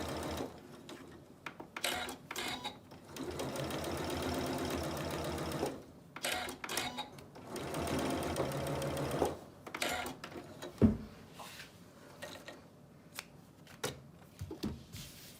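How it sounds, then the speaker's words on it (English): A sewing machine stitches a fabric face mask along a curve, whirring in steady rapid runs broken by short pauses as the presser foot is lifted and the cloth repositioned. "I'm going to be lifting up my foot just because I am sewing on a curve"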